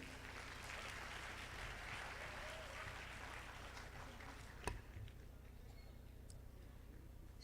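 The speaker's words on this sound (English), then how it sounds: "Can we have a round of applause for all the distinguished speakers here on stage?" A conference hall audience at a business summit applauds speakers on stage, the applause sounding faint, distant and steady throughout, with one sharp knock partway through.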